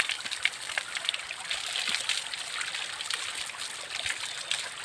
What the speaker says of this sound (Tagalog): sobrang lakas na ng agos nito tubig